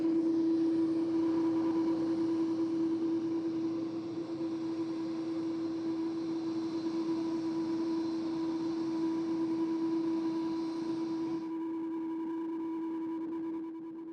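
A large jet roars past at Tokyo Haneda airport, a loud, steady engine drone with a strong humming tone that holds for several seconds before the upper roar drops away.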